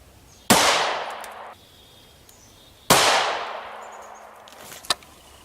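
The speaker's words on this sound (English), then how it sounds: "3 rounds with the P2000." A Sig P2000 pistol fires 9mm 124-grain Sig V-Crown JHP rounds. Two loud, sharp reports each ring out with a long decay, followed by a smaller, fainter crack near the end.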